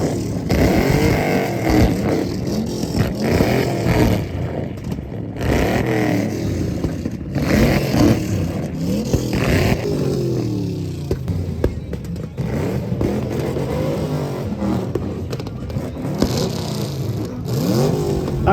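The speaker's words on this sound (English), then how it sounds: "When was the last time you did a burnout in a taxi?" A Hackney taxi doing a burnout, its engine revving hard in repeated rising and falling surges, loud and close, with tyre scrabble and clatter running throughout.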